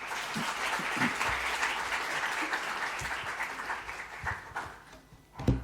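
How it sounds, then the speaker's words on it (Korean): A church congregation applauds to welcome a deacon coming forward to give a relief-team presentation at a Korean church in Johannesburg, with steady clapping filling the room before fading out near the end. "박수로 환영하겠습니다."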